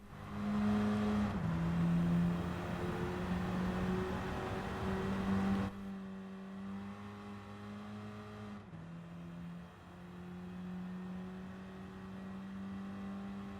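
A race car accelerates around Goodwood in Gran Turismo 7, its engine droning and climbing in pitch, with a few clear gear shifts and a sudden drop in loudness partway through, heard alone without talk.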